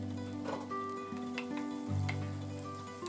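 Onions and green chillies fry in a pan for mutton kurma, giving a brief, steady close sizzle with a few faint stirring clinks.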